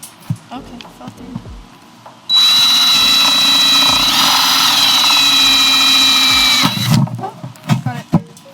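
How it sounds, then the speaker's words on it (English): A power drill bores a hole through a plastic plant container for roses. The drill gives a loud, sustained whine for about four seconds, with voices talking before and after it. "one of the containers needs to get a hole drilled in it"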